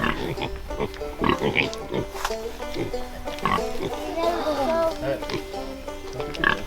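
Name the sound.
pig grunting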